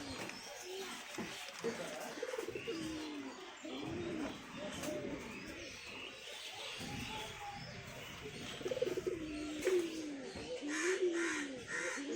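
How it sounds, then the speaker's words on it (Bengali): Pigeons coo steadily around a household coop after being let out, soft repeated calls close by with a few harsher crow-like caws mixed in, no talking. "তখন পায়রা খপগুলা ছাড়বো।"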